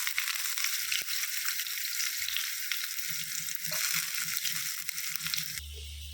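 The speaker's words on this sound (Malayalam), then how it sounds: "വെളിച്ചെണ്ണ ചൂടായപ്പം കടുക് പൊട്ടി വരുമ്പോഴത്തേക്ക് നമുക്ക് ചെറിയ ഉള്ളി" Mustard seeds and shallots fry in hot coconut oil with a continuous bright crackle and sizzle, moderately loud, with soft rhythmic scraping of stirring partway through and no talking.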